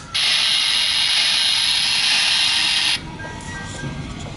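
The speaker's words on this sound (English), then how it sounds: "There goes the train." A model train at a hospital exhibit lets out a loud, steady steam hiss for about three seconds, then cuts off abruptly, leaving a quieter mechanical hum behind.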